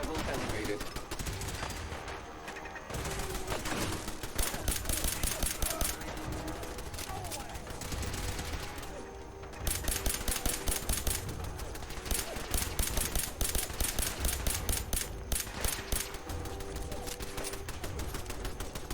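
An automated turret in the video game Fallout 4 fires long rattling bursts of rapid gunfire almost without pause, steady and loud, with one brief lull partway through, while someone talks over it.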